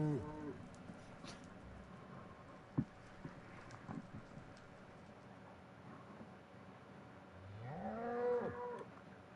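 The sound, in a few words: cow mooing in Minecraft video game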